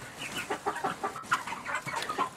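Cornish Rock meat chickens feed on tomatoes, giving off soft, busy clucks and murmuring fowl chatter at close range, a continuous low babble of bird sounds with no talking.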